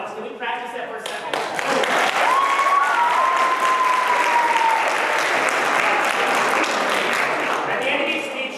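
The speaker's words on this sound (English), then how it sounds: "Be generous with your applause" A large audience applauds on cue as a practice run before a presidential-style speech event, dense broadband clapping swelling quickly and holding steady and loud throughout, with voices and whoops mixed in.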